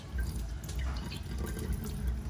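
Mung beans being rinsed in water, a steady splashing and trickling wash with dripping, close and fairly quiet, no voices.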